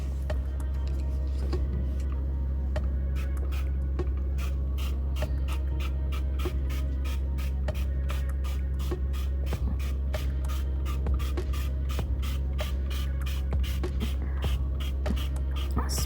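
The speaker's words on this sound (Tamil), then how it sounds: "ஸோ ஃபுல்லாக ஸ்ப்ரே பண்ணி விட போகிறேன் அதில்." Cleaning liquid sprayed generously over a dirty kitchen stove, a steady run of short hissing spray bursts repeating close up over a constant low appliance hum.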